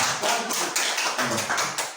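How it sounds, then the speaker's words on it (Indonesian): A group in a classroom claps together in quick, close, rhythmic bursts, loud and sharp, with no talking over it. "tepuk tangan dulu untuk kita semua"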